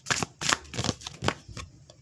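Tarot cards are shuffled and drawn by hand, a series of quick riffling bursts and soft slaps at close range, with no talk over them.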